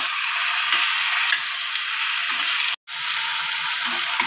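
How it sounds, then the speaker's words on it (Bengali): Marinated chicken frying with spices on high flame for a chicken stew, a loud continuous hiss and sizzle up close with faint stirring knocks, briefly cut off in the middle, no voices. "হাই ফ্লেমে 2-3 মিনিট চিকেনটাকে সব মশলার সাথে কষানোর জন্য"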